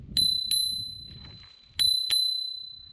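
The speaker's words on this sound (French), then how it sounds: "la petite sonnette de sécurité." A folding electric mountain bike's small safety bell rings crisply four times, in two pairs of bright metallic dings that ring on and fade between strikes.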